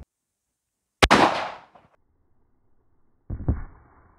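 A single sharp gunshot from a pistol firing a 115 grain Magtech +P round into ballistic gel, a loud close crack with a decaying tail, followed about two seconds later by a second, softer impact-like burst.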